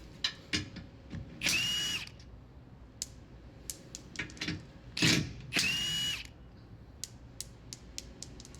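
A power drill spins out skid plate fasteners under a lifted Honda Pilot TrailSport, with short bursts of whirring that repeat between clicks and clatters of parts, close and loud, with no voices.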